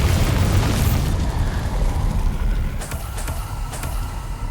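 A Bombarda spell explosion in Hogwarts Legacy, a loud, deep boom that rolls and slowly decays, followed by a few sharper crackling bursts as debris settles.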